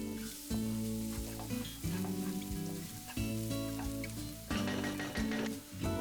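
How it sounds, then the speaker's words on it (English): Chopped garlic and onion frying in a pan as a stuffed mushroom and beef mince filling is made, with a steady close sizzle running throughout and occasional stirring scrapes. Tonal music plays over it. "Then add 1 chopped onion and fry this until it is nice and soft."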